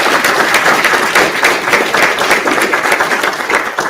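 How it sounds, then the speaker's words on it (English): An audience at a live panel event on unidentified aerial phenomena claps in a dense, steady burst of applause, loud and close throughout. "I'd like to offer a quick round of applause for them"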